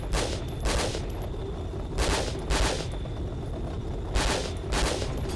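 Gunfire in a tactical shooter video game comes in short, loud automatic bursts, about six volleys spaced a second or so apart over a steady background hum, with no voices.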